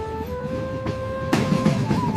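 A train starts off from a railway station with tonal hums and whines and a rising rumble, joined by clanking bursts partway through.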